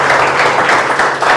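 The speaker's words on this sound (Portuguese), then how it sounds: "As palmas que louvam o Senhor Jesus." A church congregation claps in praise of Jesus, a dense, loud wash of applause that runs steadily for the whole short moment.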